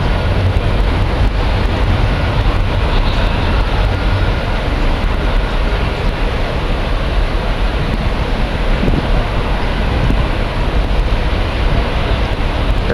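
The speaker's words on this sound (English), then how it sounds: "There's the Docklands Light Railway crossing over." Docklands Light Railway train crossing over at Canary Wharf in London, a loud continuous rumbling roar heavily mixed with wind buffeting the microphone, steady throughout with no voices.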